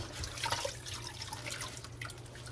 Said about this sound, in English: wash the greens in salt and vinegar water